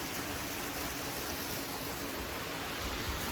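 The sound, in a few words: Switzer Falls waterfall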